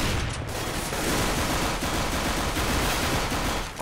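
Automatic gunfire in Counter-Strike on the de_dust2 map, a dense, continuous rattle of rapid shots filling the whole stretch at high level with no talk over it.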